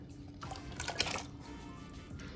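Water running from a kitchen tap for washing radishes, a soft splashing flow that swells briefly in the middle and then settles into a quieter trickle, close by with no talking.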